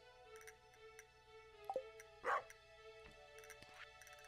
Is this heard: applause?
no